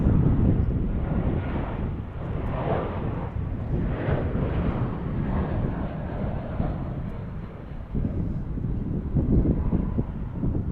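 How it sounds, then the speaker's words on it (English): Airbus A319 airliner inbound to land at DFW airport rumbles faintly at a distance, its low drone mixed with gusty wind buffeting the microphone and swelling gently over the whole stretch. "we've got another A319 inbound here"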